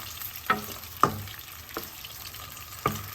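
Isan sausages frying over low heat in a Korean pan, a steady soft sizzle broken by four sharp clicks of a utensil against the pan, close and quiet, no talking.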